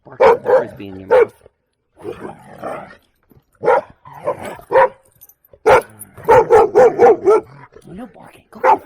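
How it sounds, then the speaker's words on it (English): A dog barks in quick, loud bursts, some single and some in rapid runs, with a person talking in between the barks. "No barking. Go get the frisbee."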